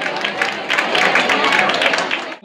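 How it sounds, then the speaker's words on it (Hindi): Dense audience applause at a Gangaur festival gathering of a Maheshwari community association in central Kolkata, many hands clapping loudly and continuously before cutting off abruptly. "जबरदस्त तालियां बजती रहे"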